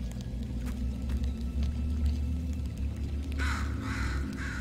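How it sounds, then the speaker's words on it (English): A bird calls in the video game Portal 2, a few harsh caw-like cries near the end over a steady low rumble. "Hey, a bird."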